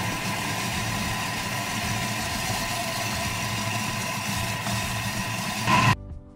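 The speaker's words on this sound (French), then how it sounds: "je vais donc lancer pendant 1 minute 30 le Thermomix" A Thermomix running steadily at speed 5 while mixing apricot sorbet, a constant mid-pitched motor whir with a grinding texture, close and even for several seconds before it cuts off abruptly.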